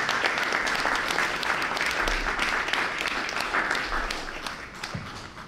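A large audience applauds at a university honorary doctorate ceremony, dense clapping filling the room and holding steady before easing slightly toward the end.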